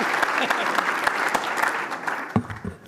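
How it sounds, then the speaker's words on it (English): Audience applause at a conservation society's annual meeting, a steady patter of many hands clapping for nearly three seconds, with a few louder claps and some voices near the end. "Stop clapping."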